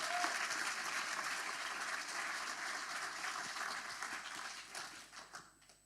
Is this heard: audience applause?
yes